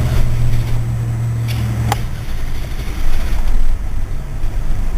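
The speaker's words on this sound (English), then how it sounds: "Notice the car started there, and it's barely idling, and it's died now." A car engine with a faulty purge valve sputters at a low, uneven idle, its hum dropping away and then roughly picking up again amid rumbling noise before it stalls.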